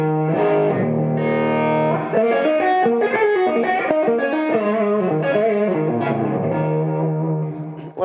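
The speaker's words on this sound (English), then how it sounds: "distortion off the preamp side and also the gain off the power section as well, which will drastically change the tone of the actual distortion." An electric guitar played through a Triple Drive Supreme amp with heavy distortion rings out in sustained chords and shifting riffs, loud and continuous, with a saturated, reverberant tone and no talk.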